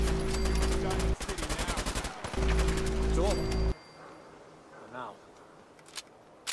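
Gunfire in Fallout 4: rapid automatic bursts rattle loudly in two runs, broken by a brief pause, then cut off into quieter background with a few faint scattered pops.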